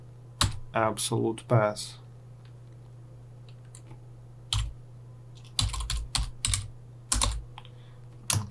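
A computer keyboard clicks in short bursts of rapid keystrokes while code is typed, close and crisp with pauses between runs. Someone speaks briefly partway through.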